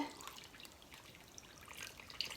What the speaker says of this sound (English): Now let's pour our juice in.